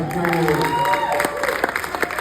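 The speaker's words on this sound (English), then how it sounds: "Give yourselves a round of applause." Cinema audience at a film Q&A clapping together, a steady, dense patter of hands under a speaking voice.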